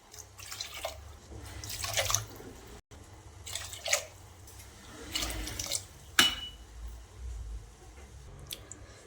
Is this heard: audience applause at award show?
no